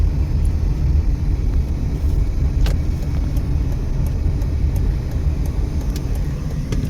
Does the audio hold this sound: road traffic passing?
yes